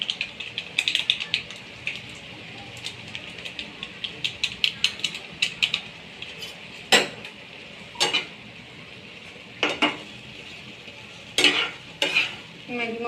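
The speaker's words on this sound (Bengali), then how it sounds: "ম্যাগি মশলাটা দিয়ে ভালো করে একটু নাড়িয়ে নেব" Maggi noodles being stirred with masala in a pan, giving a steady soft sizzle with repeated scraping and clinking strokes of a spoon against the metal, close and fairly quiet, with no talking.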